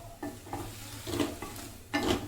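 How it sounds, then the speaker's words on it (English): Green chillies are sautéed in a pan for vangibath powder, a soft sizzle broken by several distinct scraping stirs of a spoon against the pan, close by. "And this has to be sauteed very well."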